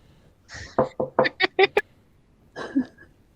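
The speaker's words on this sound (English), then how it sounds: "I'm just gonna knock on the door." Knocking on a door during a live Dungeons & Dragons play session: a quick run of about six close, sharp raps, followed by a short burst of voice.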